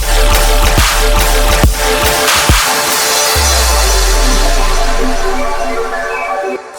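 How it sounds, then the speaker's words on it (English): A sub drop in a color bass track: loud, dense electronic music with sharp hits, then a deep sliding low bass note that swells and fades as the mix thins out toward the end. "And what you heard there was actually a sub drop."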